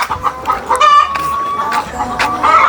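Farm chickens clucking close by in a steady, busy chatter, with short calls and a rooster-like note rising above the flock.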